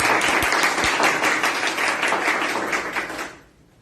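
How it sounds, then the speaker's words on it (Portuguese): A church congregation claps at a worship service, dense rhythmic clapping from many hands that holds steady for over three seconds, then fades out quickly into near silence. "As palmas para o Senhor Jesus."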